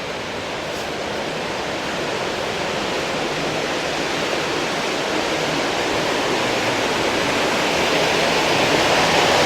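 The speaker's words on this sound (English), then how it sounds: "So this is fed by the waterfall, and this eventually goes down into the lake." A mountain stream fed by a waterfall rushes through Hallstatt on its way down to the lake, giving a steady, loud broadband roar of churning water that swells slightly over time, with no voices.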